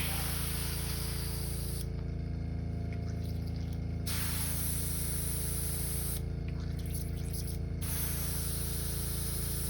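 An airbrush loaded with paint for a custom crankbait lure hisses in a continuous, close spray that runs nearly unbroken, dipping briefly twice, with no talking.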